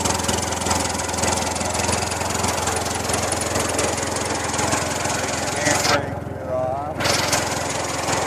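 Engine of a 1925 Chevrolet car with a three-speed gearbox running loud and close, a rough, chugging mechanical clatter that holds steady throughout, with a brief dip near the end.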